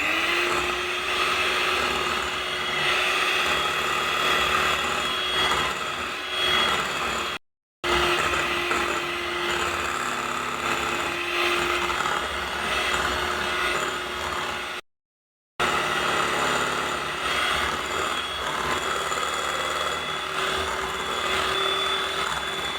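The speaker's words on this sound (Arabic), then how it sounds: "بعد ما خلطت مليح السكر مع البيض ديالي والزيت والحليب" A steady electric mixer or whisk drones continuously, close and fairly loud, blending sugar, eggs, oil and milk into chocolate cake batter, with two brief gaps where it cuts out.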